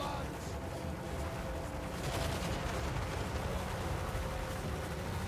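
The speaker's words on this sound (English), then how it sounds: "The gyro bombers are moving on in, getting those machine guns firing and dropping the first of their bombs on a unit of Black Orcs here" Gyro bombers' machine guns and bombs in a Total War: Warhammer 3 battle against Black Orcs, a dense, continuous wash of distant gunfire and explosions that swells slightly partway through.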